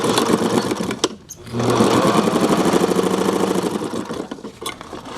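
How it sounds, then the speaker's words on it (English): A Singer sewing machine fitted with a Zigzagger attachment runs a straight stitch, making a fast, steady mechanical whirring and rapid needle chatter. Brief pauses break the run, and it sounds loud and close. "this will also make a straight stitch"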